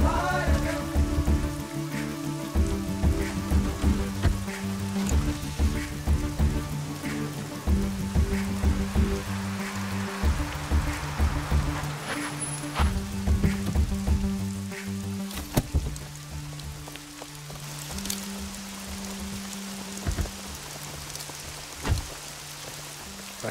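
Steady rain falls at night in a Telugu film scene, a continuous hiss of drops on surfaces running beneath a prominent musical score throughout, with no talk.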